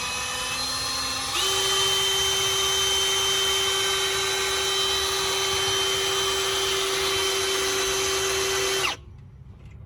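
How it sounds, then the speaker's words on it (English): A power drill whines at a high, steady pitch for several seconds, close up, as the bit drills through a nut on a 5.7 Hemi engine, then abruptly cuts off, leaving quiet. "currently a drill bit going through that nut"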